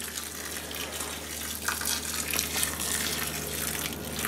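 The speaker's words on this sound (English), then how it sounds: "Now I'm going to pour in the rest of the water." Water is poured from a container over matzo farfel in a bowl, a steady close splashing pour that swells slightly midway and runs throughout without speech.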